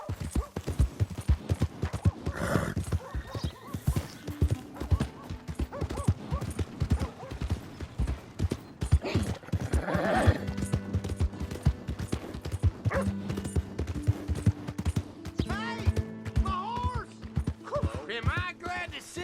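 Horse hooves clip-clop steadily in Red Dead Redemption 2, with a few neighs and whinnies rising over the rhythmic hoofbeats, near and moderately loud, with brief game voices between.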